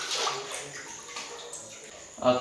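Water splashing in a baby's bath at home, soft and fairly close, with a sharper splash near the end and a voice talking faintly over it.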